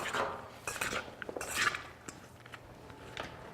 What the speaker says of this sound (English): So we'll just toss the onions together in that.